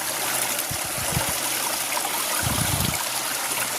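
Water in a stream flows with a steady broadband rush, while a few soft low thumps and bumps sit under it and no voices speak.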